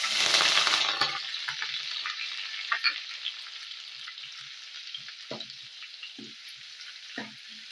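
Two chopped onions dropped into hot oil in a pan on low heat for sweet corn rice, a loud initial sizzle burst that settles into a softer steady frying hiss with occasional stirring clinks.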